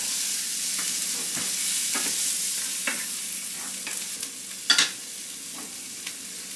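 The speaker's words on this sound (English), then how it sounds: "So now I'm adding the peppers and onions to the pan, and I'm just going to saute these for about 4 minutes." Peppers and onions sauté in a pan with a steady, close sizzle, broken by occasional light scrapes and stirring knocks, and no voices over it.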